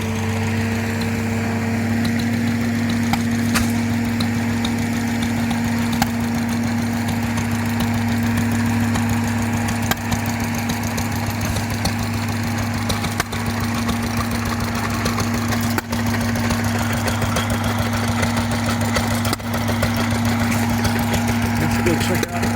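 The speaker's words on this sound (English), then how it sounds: "Couple more engines" Old stationary engines chug and idle steadily at an early American craft show and cherry festival, a constant mid-pitched mechanical drone with faint knocking running throughout, with crowd sounds and voices in the background.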